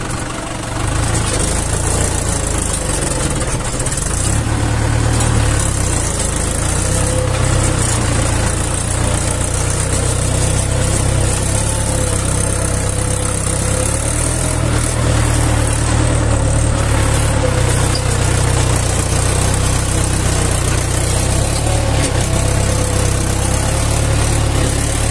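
A Mahindra 575 tractor engine runs steadily at a field, its loud, continuous low rumble and idle-like drone holding without a break for the whole stretch, with no talk over it.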